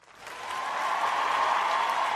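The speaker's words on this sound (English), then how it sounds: "I gotta applaud Corey Holcomb" A crowd applauds, the clapping swelling from soft to a steady, moderately loud wash that holds for about two seconds.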